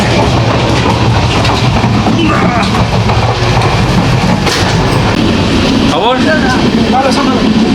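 The Sairang–Kolkata express train rumbles steadily at high speed near Berhampore, a loud continuous roar with rhythmic clatter of wheels over the rails.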